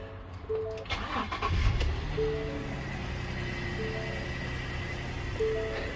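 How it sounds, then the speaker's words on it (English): A Ford Transit T250 van cranks and starts, its engine turning over briefly and catching into a steady idle, heard close by with a faint high tone from the dash and no talk. "Oh crap, light comes on, a little spark happens sometimes, and the vehicle starts like it's brand new."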